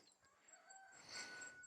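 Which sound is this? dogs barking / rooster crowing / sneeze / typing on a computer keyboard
rooster crowing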